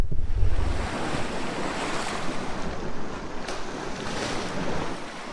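Waves washing onto the shoreline of the Mississauga Strait between Lake Huron and the North Channel, a steady broadband surf rush mixed with gusty wind buffeting the microphone, with no talk.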